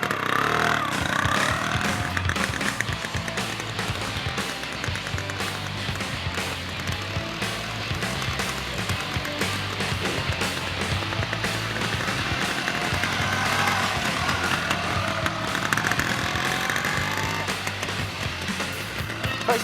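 A training motorcycle rides slow circles and tight corners, its engine running steadily and close throughout, with small rises and dips in the revs as the rider works the clutch and rear brake.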